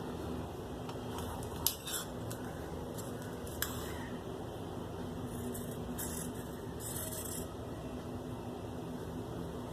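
Scissors cut fabric for a kameez sleeve, giving a couple of faint, sharp snips over a steady low room hum, with no talking.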